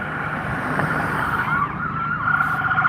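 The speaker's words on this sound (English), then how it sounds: "Oh, I hear sirens." A wailing siren rises and falls in the distance over a steady background hum in Mt. Pleasant, Michigan, with no one talking.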